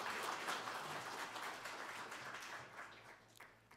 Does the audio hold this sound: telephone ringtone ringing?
no